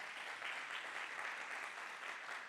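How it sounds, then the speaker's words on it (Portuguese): A church congregation applauds first-time visitors during a Father's Day service, a steady, even wash of many hands clapping at a distance, soft but sustained throughout without a break. "Uma salva de palmas para esses irmãos."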